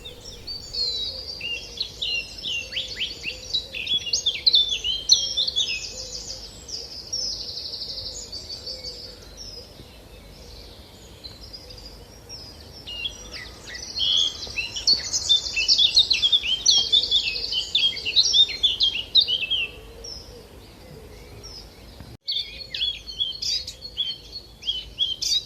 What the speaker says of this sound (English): There's a blackcap singing in this bush. It's a migrant warbler. Sounds a bit like a speeded up blackbird.